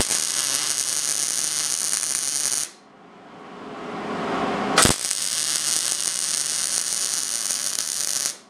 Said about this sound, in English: I'm gonna MIG weld it up